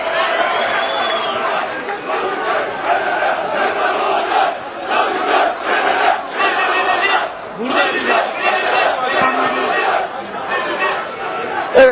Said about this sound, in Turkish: Evet Galatasaraylı taraftarların da tezahüratları sizlere kadar geliyor.